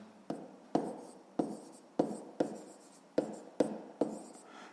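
A pen or pencil writes by hand on paper, about ten sharp scratchy strokes in an irregular rhythm, close and quiet with nothing else heard.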